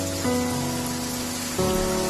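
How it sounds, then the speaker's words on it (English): Rain falls on a school campus, a steady soft wash of drops under a layer of sustained tonal background sound. "It's raining on the school campus"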